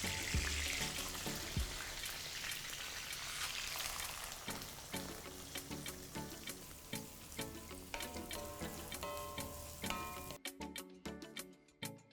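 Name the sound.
frying ingredients in oil in a kadai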